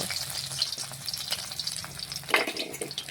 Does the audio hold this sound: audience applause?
no